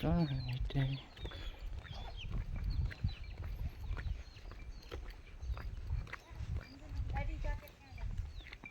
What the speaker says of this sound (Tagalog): Daming manok ko.